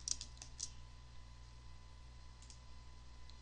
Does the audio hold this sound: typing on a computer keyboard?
yes